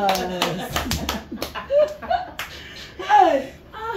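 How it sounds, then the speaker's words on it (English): People clap their hands in sharp, irregular bursts of slaps amid a lively gathering, mixed with voices, chuckles and laughter close by. "Clap for Jesus."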